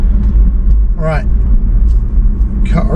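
Steady low road rumble fills the inside of a packed car on the road from Cornwall toward Bristol, with a person talking over the engine and tyre drone.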